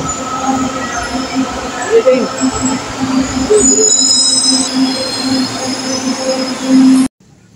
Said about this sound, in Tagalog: meron nang dumarating na train. Dumating na yung train. LRT2.